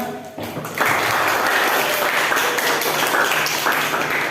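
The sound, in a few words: classroom applause for a group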